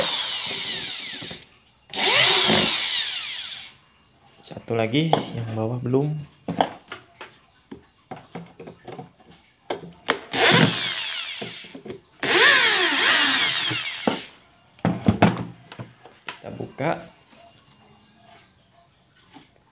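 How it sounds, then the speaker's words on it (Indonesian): A cordless drill driving screws into an active speaker whirs in several bursts of a few seconds each, winding up and down, with a voice talking briefly between the bursts. "pakai bor soalnya kalau pakai obeng lama jadi aku pakai bor"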